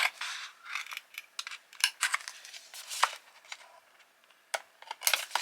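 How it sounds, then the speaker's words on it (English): Scissors snip repeatedly through heat transfer vinyl in irregular crisp cuts, close and fairly quiet, with short pauses between strokes and no talking. "it's so hard to cut with anything other than scissors"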